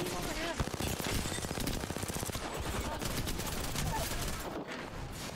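Dense rapid gunfire in Apex Legends, sustained automatic bursts crackling loudly and continuously amid a chaotic battle, with voices faintly present in the mix.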